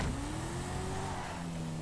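A car engine in the GTA 5 video game drones steadily and fairly loud, its pitch sliding slowly upward as it accelerates over a continuous rushing road noise, with no talk.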